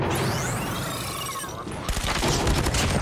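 Rapid automatic gunfire in the mobile shooter Call of Duty Mobile: a steady stream of shots, growing denser and louder in the second half, with game effects mixed in and a voice talking faintly.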